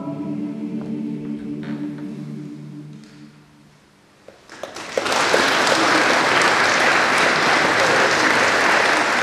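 Applause at a church choir's New Year concert after the first section, a sustained, dense burst of clapping that swells in after a soft fading final chord and holds loud and steady.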